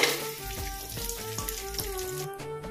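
Whole spices, shahjeera, cinnamon, cardamom, star anise and marathi moggu, fry in two tablespoons of oil in a rice cooker, giving a steady soft sizzle with light stirring taps over a tonal background.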